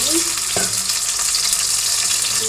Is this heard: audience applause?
no